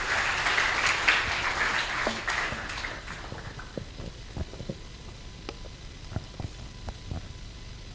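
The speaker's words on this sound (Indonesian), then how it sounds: "Beri tepuk tangan yang meriah untuk Kak Dipa Utomo." An audience applauds to welcome a speaker at the opening of a film screening, a clapping burst that fades over the first few seconds into scattered claps and quiet room noise.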